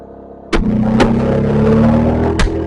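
Blasting with the Sierra Blaster System to widen a shaft: sharp cracking reports, one near the start, another a half-second later and a third near the end, over a sustained rumbling engine-like hum.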